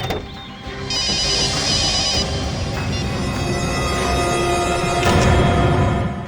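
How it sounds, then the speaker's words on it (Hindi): A mobile phone left behind in a car rings with a repeating electronic tone, loud and close, over a busy background. "सर घंटी बज रही है।"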